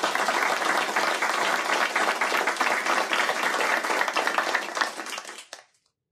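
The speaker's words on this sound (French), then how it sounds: "Un tonnerre d'applaudissements pour vous-même." A large assembly hall audience breaks into loud, thunderous applause, dense clapping sustained for several seconds before cutting off abruptly.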